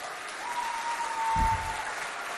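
Schoolchildren in Mao applauding at a school quiz contest, a continuous hiss of many hands clapping, steady and moderately loud, with a brief low thump midway and a faint tonal hum underneath.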